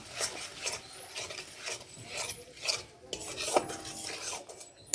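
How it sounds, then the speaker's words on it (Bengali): A ground paste of cumin, chilli, ginger and coriander is stir-fried in a pan, with a steady rasping scrape of a spatula in uneven strokes close by and no voices. "এবার এটাকে কষিয়ে নেব"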